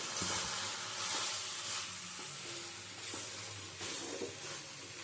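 Okra and potato curry with kasuri methi being stirred in a pan, a soft continuous sizzle with gentle scraping and occasional clinks of the spoon, close and moderately quiet.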